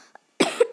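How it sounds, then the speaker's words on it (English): A single close, sharp human cough bursts out briefly after a near-silent moment. "And yeah, I had a cough there."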